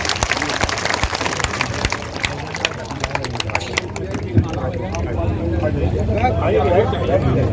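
A crowd at a political rally applauds to welcome a candidate, loud continuous clapping mixed with crowd noise and scattered sharp claps that builds slightly toward the end.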